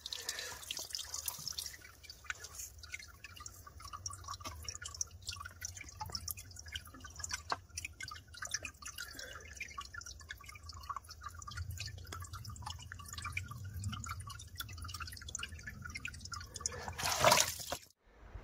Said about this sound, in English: This is a spring just dripping out